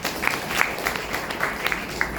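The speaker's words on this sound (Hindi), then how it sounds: "ताली बजाओ भाई।" Scattered hand clapping from a class of students in a Hindi literature lesson, sparse, uneven claps over low room noise, fairly near and brief, no talking.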